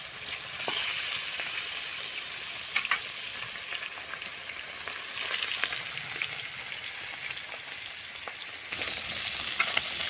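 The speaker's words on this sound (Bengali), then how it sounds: "মেখে রাখা মাছগুলো এখন ভেজে নেব" Bata fish fry in hot mustard oil in a wok, giving a steady, close sizzle with faint crackles and occasional light clicks of stirring; no one speaks.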